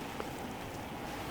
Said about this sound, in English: really raining outside